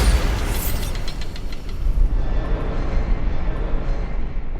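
A spell blast in a fantasy game: a loud bright boom opens and rolls into a broad, sustained rumble with crackling debris that slowly settles, with no voices.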